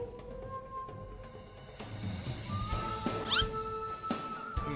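Cat monster in the online game Yulgang: a few drawn-out synthetic meows and yowls over steady game background music, fairly close, with small clicks and hits mixed in.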